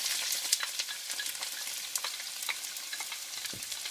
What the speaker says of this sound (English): So we're going to saute these onions